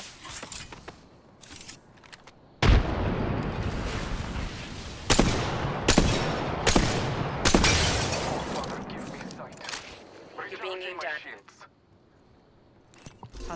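A frag grenade blows up in a multiplayer shooter game with a sudden loud blast, followed by a string of sharp gunfire cracks and bangs. Players talk over the action and comms.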